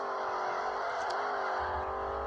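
A Volkswagen Beetle (Fusca) engine drones steadily as the car drifts in a video game, a continuous mid-pitched whir with a brief swell near the middle, heard alone.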